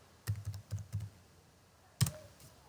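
Keys tapped on a computer keyboard while entering a web address: a quick run of five or six close, light clicks, a pause, then one last sharper keystroke, all fairly quiet with no voices.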